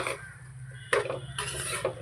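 Maggi noodles with vegetables are stirred in a pan, giving a few scraping, clinking strokes of a utensil against metal, close and moderately loud over a low steady hum.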